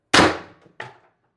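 A homemade X-68 Storm Trooper blaster build fires a single shot: a sharp, loud clanging crack that rings out and decays, then a second, softer metallic impact follows about two-thirds of a second later, with silence around both.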